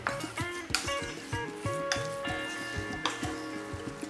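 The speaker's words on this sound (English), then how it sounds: "Right now this mixture is still moist, so we need to cook it further for 3 to 4 minutes on low flame till it becomes little thick" Motichur ladoo mixture cooking in sugar syrup on a low flame, a thick bubbling sizzle with repeated scraping stirs and occasional utensil taps against the pan, continuous and close, no talking.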